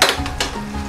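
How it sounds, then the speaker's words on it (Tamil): Chicken fries in hot oil at a street food stall, giving a loud close sizzle with a couple of sharp scraping stirs near the start, and no one talking. "ஃபர்ஸ்ட் நம்ம சிக்கனை ஃப்ரை பண்ணிடலாம் ஆயில் வந்து நல்லா சூடாக இருக்குது"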